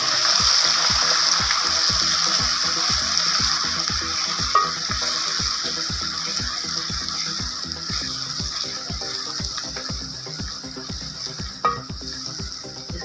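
Onion with ginger-garlic paste frying in a pan for dhaba-style chana dal, a steady close sizzle with rapid repeated stirring scrapes throughout and no talking.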